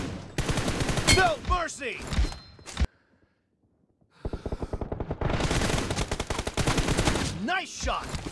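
Rapid gunfire bursts in the mobile battle royale game BGMI, loud and close, cut by a brief silent gap, with bursts of a player's voice shouting over the shots.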